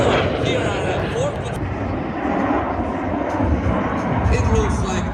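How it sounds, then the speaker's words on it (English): Several airplanes flying in close formation at the California Capital Airshow make a loud, steady engine roar that fills the whole stretch without letup. Faint speech sits under the noise. "It looks like just one huge airplane is performing this maneuver"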